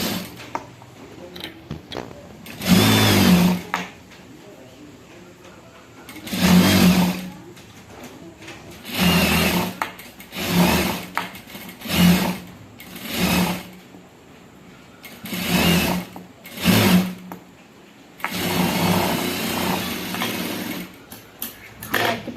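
A sewing machine stitching a cross-cut blouse runs in repeated bursts, each a few seconds long, separated by short quiet pauses. The whirring is loud and close, and no one speaks.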